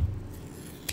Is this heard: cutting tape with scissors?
yes